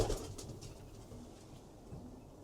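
Racing pigeons cooing faintly in a loft, soft low coos over a quiet background with no talk.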